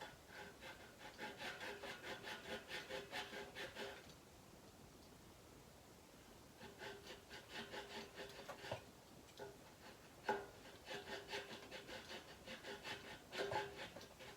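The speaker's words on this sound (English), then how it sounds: "So I've got more of a like a triangular file. See, like that. So we can make these slots." A triangular file rasps slots into a homemade bass guitar built from a beer can and a hockey stick, giving quiet rhythmic back-and-forth strokes in several bursts with short pauses between them.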